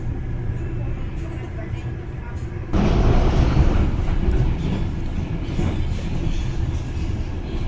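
The Ranggajati passenger train pulls out of Ketanggungan station with a continuous low rumble that swells louder partway through and stays steady as the cars roll away.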